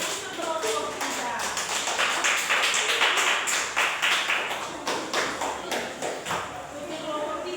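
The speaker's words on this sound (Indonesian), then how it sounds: "tepuk tangan dulu untuk kelompok kita" A student group in a classroom gets a round of applause: dense, fairly close clapping that runs steadily throughout, with no pause.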